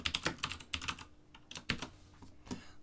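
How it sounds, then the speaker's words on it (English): Fingers type on a computer keyboard in quick, irregular bursts of close, crisp key clicks, pausing briefly before a few final taps. "I'll just type something different here from this client."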